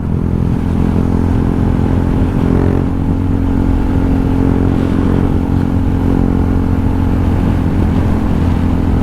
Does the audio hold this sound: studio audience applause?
no